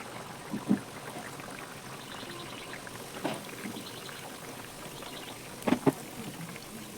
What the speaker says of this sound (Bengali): এক একটা করে পিঠে কি সুন্দর করে তেলের উপর ভাজতে শুরু করেছে ফুলকো হয়ে